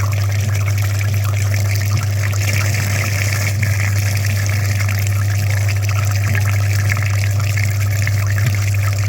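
A very dirty car heater radiator from a Geely SL, clogged with mud in its antifreeze passages, being washed under running water, giving a loud, steady rush and splatter of water with a constant low hum beneath.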